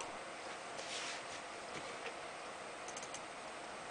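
Faint, scattered keystrokes on a computer keyboard, a few soft clicks rising out of a steady background hiss with a small cluster near the end.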